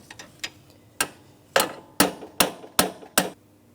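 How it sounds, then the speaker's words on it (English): A hammer taps metal about ten times while replacing a radiator on a 2004-2008 Pontiac Grand Prix 3.8L V6, sharp close strikes at an uneven pace, faint at first and louder toward the end. "Now I'm going to tap on this with a hammer."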